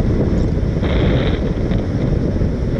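Steady, loud wind buffeting a microphone, a dense low rumble throughout with a slight rise in hiss partway through.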